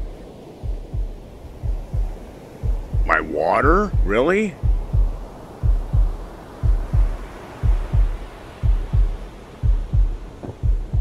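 A steady, thumping heartbeat sound effect in the survival crafting game Bermuda Lost repeats in a regular double-beat rhythm throughout, with someone briefly talking over it.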